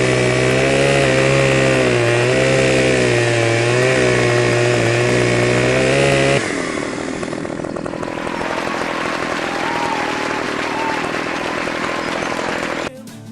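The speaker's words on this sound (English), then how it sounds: "let me introduce you to the greatest thing in Farming Simulator 2017, the chainsaw." A chainsaw in the video game Farming Simulator 2017 runs loud and continuous, with a rising, wavering engine whine that shifts to a rougher, lower drone partway through, with no talking over it.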